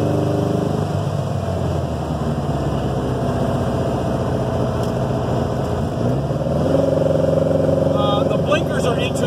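A fully restored 1956 VW Beetle engine drones steadily from inside the moving car, a loud, continuous low rumble that swells slightly near the end, with a voice talking over it.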